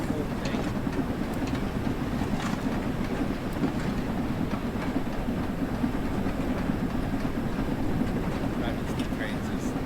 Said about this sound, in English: Driving steam trains is fun.